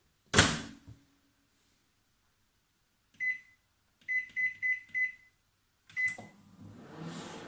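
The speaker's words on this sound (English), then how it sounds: "we're going to put our egg in to the microwave on high on 40 seconds" An 800-watt microwave oven set on high to heat an egg: a door thunk, a run of short electronic button beeps, then a final beep as the oven starts its low running hum.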